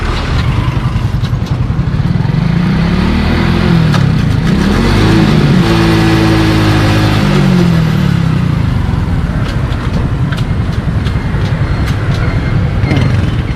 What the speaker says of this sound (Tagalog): i-start mo ulit yung makina paandarin mo hanggang 4th gear